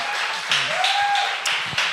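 A church audience gives a short round of applause for a guest professor speaking at an afternoon worship service, a moderate wash of clapping from the room with a voice speaking over it.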